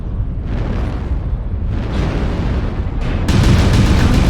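Artillery strike explosions in MechWarrior Online, a continuous loud rumbling barrage of booms with a heavier blast surging near the end, dense and close with no talk.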